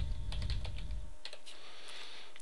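Keys clatter on a computer keyboard as a meeting subject is entered into a calendar entry, a short close burst of taps followed by quieter isolated keystrokes and a final sharp click.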